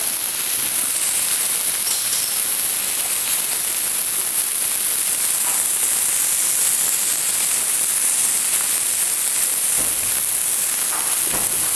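Mackerel pieces fry in a pan with a loud, dense, steady hiss of crackling oil that runs without pause, close up and unbroken.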